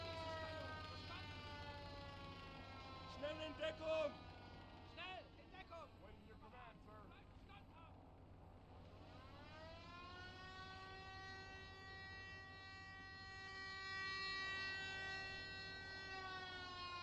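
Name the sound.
alarm siren in the video game Gates of Hell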